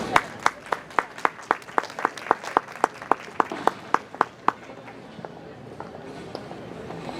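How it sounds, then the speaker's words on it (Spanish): A lone pair of hands claps steadily about a dozen times for a speaker being introduced at a tutoring conference, a crisp near rhythm that stops midway and leaves a quiet room with faint murmuring. "para el cual les pido fuertes palmas."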